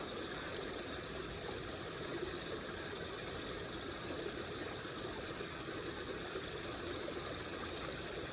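Forest brook flowing in a steady, broadband rush of water, even and continuous throughout, with a faint low rumble underneath.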